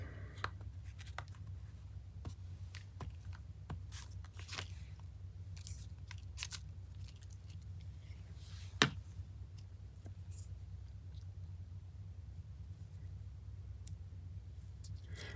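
Scissors trimming off overhanging material, a series of sharp close snips and clicks at irregular intervals over a low steady background hum, no talking.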